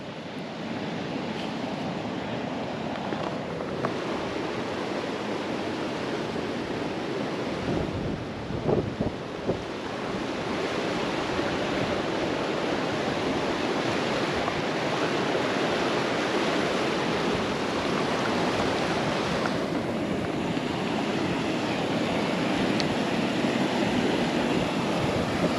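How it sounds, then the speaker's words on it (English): The Franklin River pours through a rock opening into a circular pool, a broad continuous rush of water with steady roar and occasional wind buffeting on the microphone, no voices heard. "Looks lovely, the water coming through the opening up the top there."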